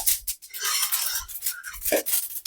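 Small ingredients popping with sharp tap-tap crackles as they are dry-roasted in a pan for a drumstick-leaf chutney powder, irregular bursts close up with no talk.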